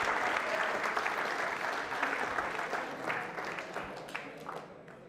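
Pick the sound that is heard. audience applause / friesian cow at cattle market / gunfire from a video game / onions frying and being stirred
audience applause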